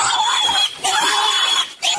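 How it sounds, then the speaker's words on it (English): A pig being chased by police officers oinks and squeals loudly in agitated bursts with short pauses between them, close to the listener. "Here are the officers trying to catch a pig."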